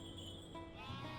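A cartoonish sheep bleats once in the Cookie Run: Kingdom mobile game, a short wavering tone heard faintly amid quiet game music, with no talk.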